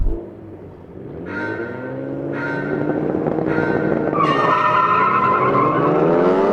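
Sports car engines, including an NSX, roar and shift up through the gears in a race as tires screech, the sound building louder and steadier over several seconds.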